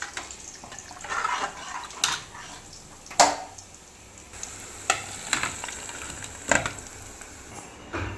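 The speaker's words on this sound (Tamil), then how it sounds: "இந்த பக்கம் நம்ம அந்த மிளகாத்தூளை நல்லா கரைச்சி ஊற்றலாம்" Dissolved chili powder poured into sambar cooking in a pot, a bubbling sizzle under a steady liquid wash, punctuated by several sharp clinks and knocks of utensils. No one speaks.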